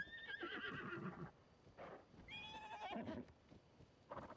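Horse in Zelda: Tears of the Kingdom lets out several bright whinnies, with clopping hooves mixed in, over game background sound and no speech.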